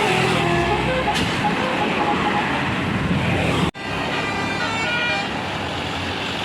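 A Patrans bus passes on a busy road with a telolet horn tooting its tune, loud and close over steady traffic and engine noise, with a sudden brief cut midway.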